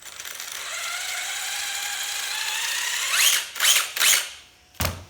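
A 1/10-scale HSP RC buggy's small cooling fan whines with rising tonal harmonics, then stutters into a few sharp mechanical ratcheting bursts and a final click, close and fairly loud.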